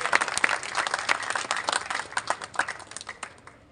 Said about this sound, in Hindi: जोर से बजाइए तालियां जरा